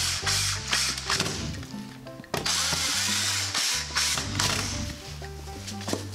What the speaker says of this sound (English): Then we put some screws on this side.